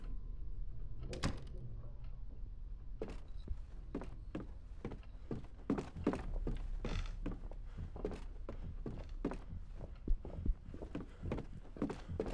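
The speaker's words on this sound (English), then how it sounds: "ignore the loud footsteps in whatever room is over there" Heavy footsteps thudding in another room in the horror game Song of Horror, a long irregular series of muffled knocks and steps at moderate distance over a quiet background.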